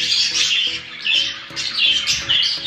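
A pet budgie or parakeet squawks in harsh, rapid bursts, close and loud, repeating continuously with only slight dips between calls.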